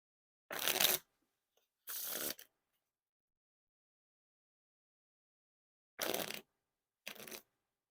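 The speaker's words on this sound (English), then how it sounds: "Now on to the Riffle Shuffle," Red Bicycle World Series of Poker playing cards are riffle shuffled in four quick, crisp bursts of fluttering card edges with silent pauses between them, no talking.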